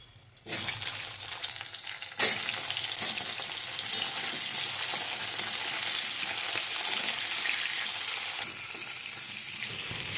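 Vegetables hit hot oil in a pan after fish was fried, bursting into a loud, steady sizzle that holds throughout, with a second surge as salt and turmeric go in.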